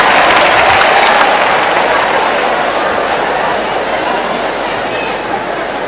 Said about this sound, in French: Applaudissez pour la famille DJ